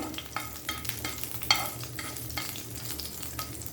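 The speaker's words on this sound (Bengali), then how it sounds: "মরিচটা আমি একটু ভেজে নিব" Dried red chilies fry in a pan with a moderate, continuous sizzle, punctuated by repeated scraping strokes of a spatula at an uneven rhythm.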